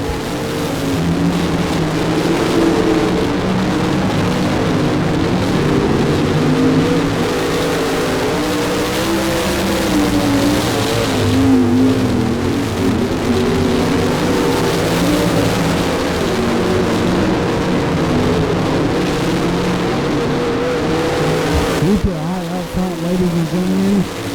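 Race cars circling a speedway track at a motor speedway, a dense, loud continuous engine roar with overlapping cars droning past, steady throughout with a brief dip near the end.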